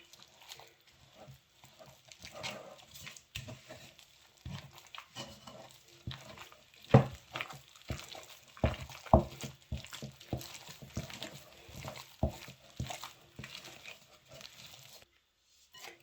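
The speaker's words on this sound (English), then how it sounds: "I'm going to add that to my mixture because I still have a little bit more of flour left, and mix it all up." A spoon working through homemade doughnut dough and flour in a bowl, giving soft, irregular squelching and scraping taps that come in bursts with short quiet pauses, fairly close and low in volume.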